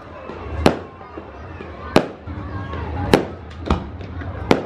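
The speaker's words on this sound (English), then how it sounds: "What an incredible fireworks display." Repeated fireworks explosions at the Toowoomba Show fair in Australia crack and thud every second or so, some louder than others, with a crowd murmuring in the background.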